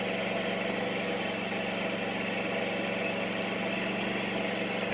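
A Predator 8750 inverter generator, rated at 7000 watts, runs with a constant, even engine hum while powering an air compressor, with no breaks or change in level.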